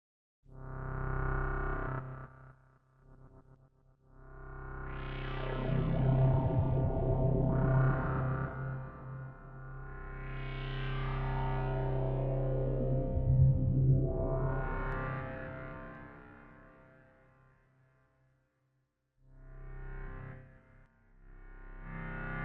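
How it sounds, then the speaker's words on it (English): Karanyi Sounds Minipol synth played with delay, chorus and reverb effects, sustained swelling chords with sweeping, echoing tails in long phrases separated by brief gaps, moderately loud and alone without voices. "They have additional filter, delay, chorus, EQ, and reverb controls here."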